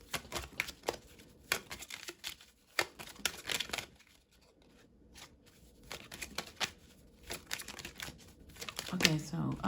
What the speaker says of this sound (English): I was also listening for more information while I was shuffling.